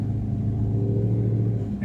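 A Chevrolet C30 truck drives along the road in second gear, its engine a steady, loud, low rumble throughout the short stretch with no change in pace.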